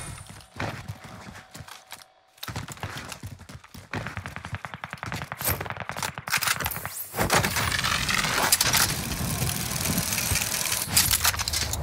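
Gunfire from a Call of Duty Vanguard Warzone match, with rapid repeated shots in bursts over engine-like rumble and clatter, growing louder and denser toward the end and filling the mix continuously, with no talking.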